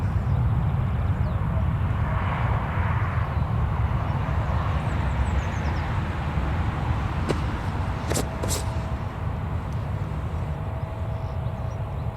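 A Eurowings airliner lands at Newcastle Airport with spoilers deployed, rolling out along the full runway in a steady, loud broadband roar of engine and air noise that holds throughout, with no voices.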